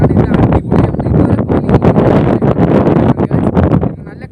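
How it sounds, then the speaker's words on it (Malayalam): Strong wind buffets the microphone at a hilltop viewpoint at Ayiravallipara, a loud continuous rumble with gusts, with someone talking over it throughout. "ഇതുവരെ നല്ല കാറ്റുണ്ട്, ഞാൻ പറഞ്ഞത് കേൾക്കാൻ പറ്റില്ല."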